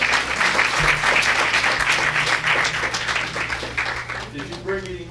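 An audience at a women's resource forum breaks into warm applause, a dense, sustained clapping that stays loud before tapering off as a speaker's voice begins to come through near the end.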